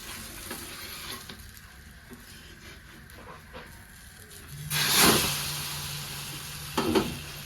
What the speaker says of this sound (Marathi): त्याला थोडंसं कडणी तेल सोडते आणि मग आपल्याला चपाती पलटी करायची